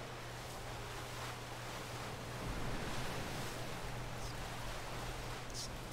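A soft, steady wash of water sloshing plays as a game effect in MTG Arena, faint and continuous with a low hum beneath it and no talk.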